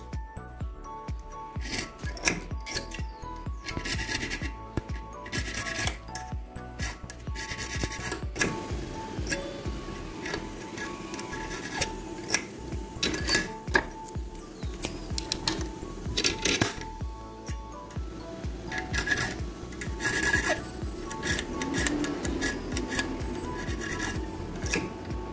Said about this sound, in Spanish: Vamos a hacerle la llave a este llavín. Vamos a comenzar con la primera laina.